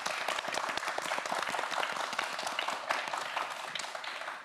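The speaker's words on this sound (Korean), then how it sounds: "이원준 학생에게 다시 한번 큰 박수 부탁드립니다" A studio audience at a TV quiz show applauds a student contestant, with dense, steady clapping from many hands held at a moderate level for the whole stretch and no talk over it.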